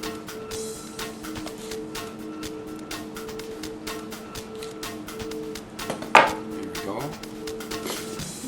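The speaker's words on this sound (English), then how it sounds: "I'm cutting them on an angle here so that they're all going to be the same size" Knife slicing salmon fillets at an angle on a cutting board, a few soft cuts and one sharper knock against the board, close by and under steady talk from a man in a kitchen.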